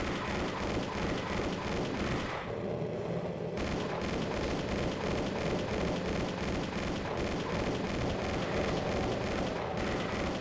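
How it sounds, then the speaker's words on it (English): Dense, relentless gunfire from the video game DOOM fills the whole stretch: rapid overlapping shots and booming blasts hammer on without pause, loud and close, with a brief dip in the crackle partway through. "the vast amount of gunshots in my ear"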